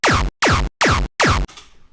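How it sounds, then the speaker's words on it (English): A synthesized laser kick drum built from layered Serum patches hits four times in a quick even rhythm, each punchy hit sweeping sharply downward in pitch, followed by a brief noisy tail, loud and alone. "And so now it sounds lasery and it sounds full and snappy"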